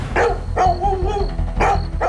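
A dog barks loudly and close by in a domestic crime-drama scene, several sharp barks in quick succession with brief gaps, standing alone with no talk over it.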